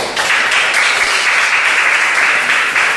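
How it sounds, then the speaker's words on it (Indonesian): Schoolchildren in a classroom break into loud, sustained applause for a classmate, an even wash of clapping filling the whole moment. "Beri tepuk tangan kepada teman."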